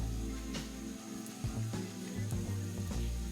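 Onion for a Lebanese green bean stew sizzles as it lands in a hot pan, giving a steady, fairly quiet hiss and crackle under low background hum.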